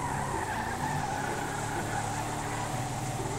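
Toyota Sienta racing in reverse in a modded GTA V driving game: a steady, loud engine roar with continuous tire skidding throughout, no voices.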